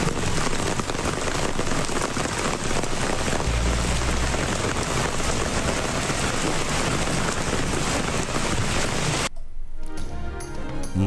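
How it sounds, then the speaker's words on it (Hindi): Torrential rain with thunder pouring down in the hill town of Murree, a dense, steady roar of rainfall throughout that cuts off abruptly near the end, leaving a quieter remainder. "मलिकाए कोहसार मरी में गरज चमक के साथ मूसलाधार बारिश।"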